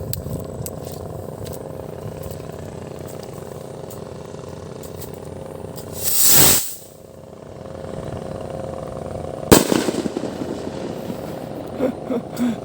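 A homemade kwitis firework rocket launches from a small lifter with a sharp, brief whooshing hiss. A second short burst follows a few seconds later over a steady background hum.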